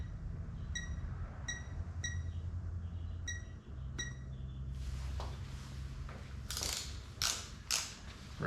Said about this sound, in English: So we're going to set the torque wrench to that.